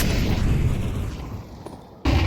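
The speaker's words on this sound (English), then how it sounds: "This is how the nade lands. It does 45 HP on a guy with armor" HE grenade in Counter-Strike bursting into a heavy, rumbling boom that fades over about two seconds, followed by a second sudden loud blast, with no talking.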